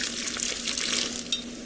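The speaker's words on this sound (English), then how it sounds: "You fill it by pouring water down the center" Water pours down the center of a pineapple plant between its leaves, giving a steady, close splashing trickle that runs without pause for under two seconds.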